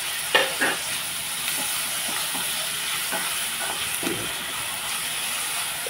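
Tomato pieces fry in a pan for a mixed vegetable curry, with a constant sizzling hiss broken by a few close stirring clinks and taps.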